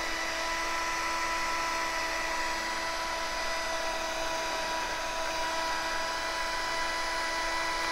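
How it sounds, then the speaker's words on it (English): A slow-speed drill runs steadily while mixing polyaspartic clear-coat sealer for an epoxy floor, giving a continuous, even mechanical whine with a strong tonal hum, close and loud, with no speech. "So long as I do it on a slow speed drill, it'll mix up just fine"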